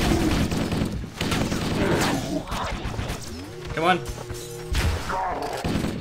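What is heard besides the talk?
plasma shots from a turret in Halo video game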